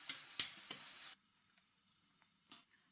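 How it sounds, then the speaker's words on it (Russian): Apples fry in sunflower oil in a pan and are stirred, giving a loud sizzle with a few sharp stirring scrapes for about a second, then the sound drops to a faint hiss with one more brief stir near the end. "Наливаю в сковороду подсолнечное масло, выкладываю яблоки, накрываю крышкой, убавляю нагрев и обжариваю их до готовности, периодически помешивая"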